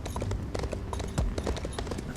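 Horse hooves clip-clop at a steady walking rhythm in the Elder Scrolls Online video game, close by, with ambient game noise underneath and no speech.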